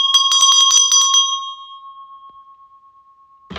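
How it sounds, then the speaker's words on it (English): A bell is struck in a quick run of rapid rings, then a single clear tone hangs and slowly fades out, loud and close, before a sudden thump at the end. "Wow, that was a real bell sound."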